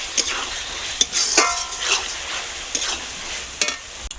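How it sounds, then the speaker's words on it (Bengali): Spice paste for a chicken and cabbage curry sizzling in oil while being stirred, with scraping spatula strokes and clinks against the pan cutting through a soft, continuous fry. "মশলার থেকে যতক্ষণ তেল ছাড়বে না মশলার কাঁচা গন্ধ না যাবে ততক্ষণ মশলাটি কষাতে থাকবো"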